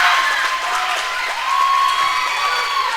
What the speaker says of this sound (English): The comeback is alive, and so is the crowd.